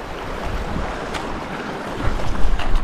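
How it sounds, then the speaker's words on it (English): Steady wind at an alpine lake rushing and buffeting the microphone, with a low roar that swells louder near the end; no voices. "Yeah, the wind's blowing this way."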